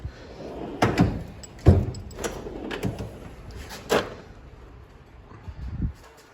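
Drawers on a Mac Tools Macsimizer tool cart slide and bump shut several times, sharp metallic thuds with rolling slides between them, close by, with no talk.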